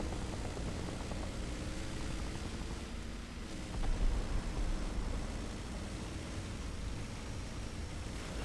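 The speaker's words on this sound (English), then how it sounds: "How is there already a plane up?" A plane droning overhead in a War Thunder battle, a steady broad engine roar that swells briefly near the middle and then settles back to a constant hum.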